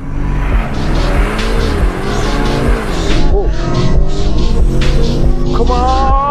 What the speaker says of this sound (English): I'm in the Lamborghini Urus. It's 4 liter twin turbo V8 petrol, 650 horsepower, 850 newton meters of heat.